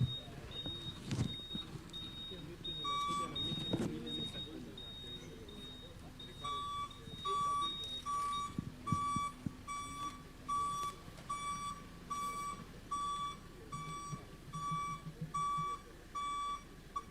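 Trucks reversing at an official handover of ambulances and medical supplies send out a long run of evenly spaced reversing beeps, steady and mid-distance, while people talk and murmur in the background.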